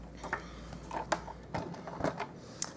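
A Big Shot die-cutting and embossing machine cranks through a card in a 3D embossing folder, giving quiet, irregular clunks and clicks close by.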